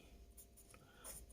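Chalk or marker scratching on a board in a few short, faint strokes, with soft squeaky scrapes in a quiet room.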